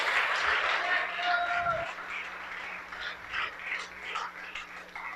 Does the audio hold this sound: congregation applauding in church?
yes